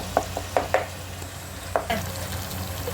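Garlic and ginger paste frying in oil in a pan for a spicy beef curry, with a steady low sizzle and a few sharp scraping clicks of a spoon stirring through it.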